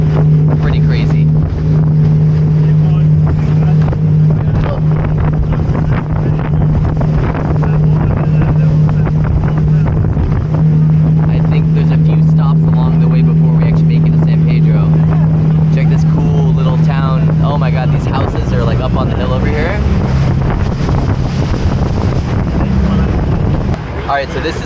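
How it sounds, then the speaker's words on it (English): A motorboat crosses a lake on a bumpy ride, its engine droning loud and steady beneath buffeting wind against the microphone, with a sustained tonal whine that drops away near the end. "This boat ride is insanely bumpy right now."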